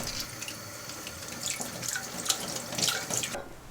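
Running tap water splashes steadily into a sink, with uneven gurgles and splatters as cabbage is rinsed in a frying pan under the stream.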